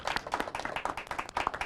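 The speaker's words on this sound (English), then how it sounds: "Big round of applause to her again." A studio audience at a live televised debate claps briefly: a short burst of quick, crisp handclaps at fairly low volume from a modest number of people, uneven in rhythm.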